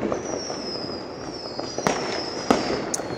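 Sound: New Year's Eve fireworks and firecrackers

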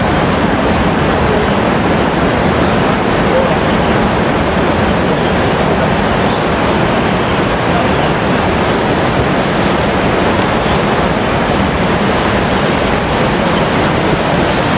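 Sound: muddy water flowing down a landslide

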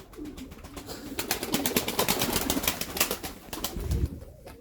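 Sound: pigeons

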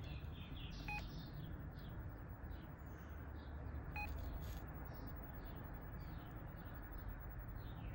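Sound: beeping from a Satlook satellite signal analyser

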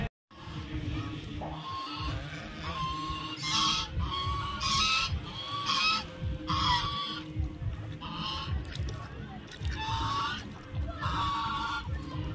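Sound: ducks being fed temple prasad at Gomti temple pond

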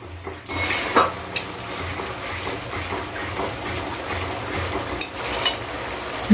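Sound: stirring yogurt with a little water into vegetable curry

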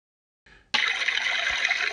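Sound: water flowing over the riffles of a drop riffle sluice

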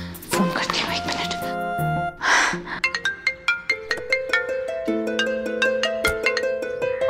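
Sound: phone ringing during an outgoing call

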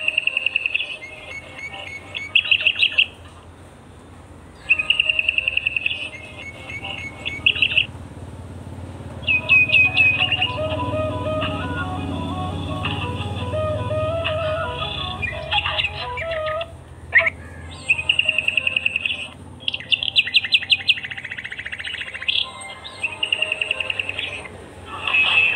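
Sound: golden-coloured birds singing

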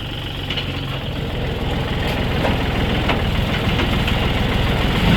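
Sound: Kubota L3608DT tractor engine running with rear PTO engaged

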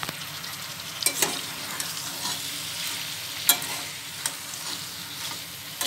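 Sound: stirring pasta into fried spice masala in a pan

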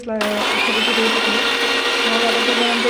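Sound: mixer grinder blending chutney

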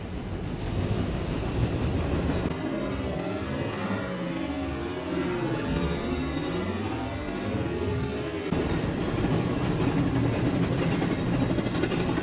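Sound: train in the Roblox game Trains vs Cars

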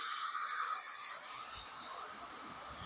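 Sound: pouring dissolved tamarind water into a pan

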